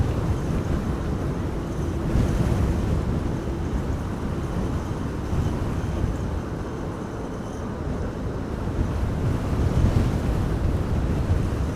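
Strong storm wind at Amsterdam Schiphol airport during Storm Benjamin, a loud, steady roar buffeting the microphone throughout, rising in gusts with no pauses.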